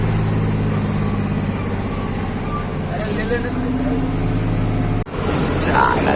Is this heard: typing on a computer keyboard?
no